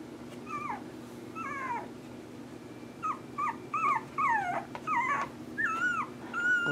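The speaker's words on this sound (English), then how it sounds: "This one's barking." Newborn puppies from a small litter give thin, high-pitched squeaks and yelps in short bursts close by, over a steady low hum.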